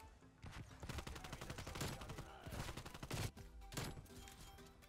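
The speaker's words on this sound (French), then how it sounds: "Je fais rafale là." Rapid burst fire from an AK74u rifle in a video game: dense strings of loud, sharp shots crackle almost without pause, with a brief break in the middle before the firing resumes.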